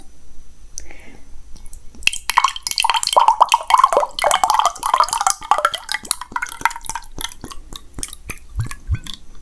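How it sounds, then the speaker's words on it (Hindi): Orange juice poured into a mug gives a few seconds of splashing, gurgling liquid, followed by scattered clinks and light knocks, with soft whispering nearby. "पहले हम जूस डाल लेते हैं मग में।"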